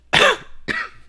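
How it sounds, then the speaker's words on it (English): Two close, sharp coughs from a person recovering from a cold, the first stronger, about half a second apart, with no talking. "If you hear me coughing, that's what it is."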